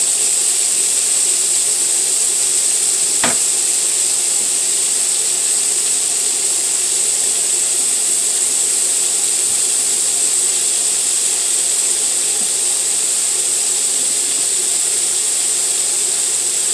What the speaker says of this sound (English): anytime I hear that sizzle, I have to jump because it seems like it's going to pop